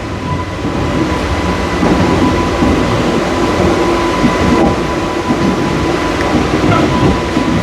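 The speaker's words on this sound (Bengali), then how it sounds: "ফাঁকা ট্রেন তারাপীঠ যাচ্ছে।" Inside a nearly empty passenger train travelling from Ranaghat to Tarapith at night, a loud, steady rumble and rattle of the carriage fill the space, with faint clanks over the continuous drone.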